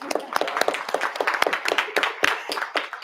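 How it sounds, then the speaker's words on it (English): Scattered clapping from a small group at a board of education public session, irregular sharp hand claps close by, a short uneven burst without a steady rhythm. "absolutely. Let's clap."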